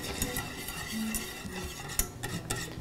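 A spoon stirs lemon juice into a hot Kahlua nut topping in a pan, soft scraping and light clinks over a faint sizzle, close and quiet, with no talking.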